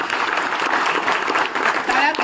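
Loud applause from a school gathering for a teacher being honoured, a continuous clatter of clapping with voices talking through it.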